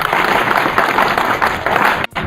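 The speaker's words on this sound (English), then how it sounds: "That hand clap for them." Audience applause for graduates at a leadership school graduation ceremony, a loud, sustained wash of many hands clapping amid crowd noise that cuts off abruptly near the end.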